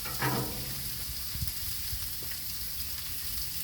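Salmon frying on a Blackstone griddle, a steady close sizzle holding throughout with a few brief clicks and taps near the start.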